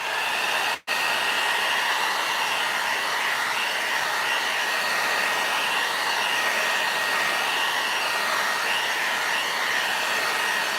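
A hair dryer blows steadily to dry Pentart water-based crackle medium paint, a loud, constant whir that cuts out for an instant near the start and then runs on unbroken.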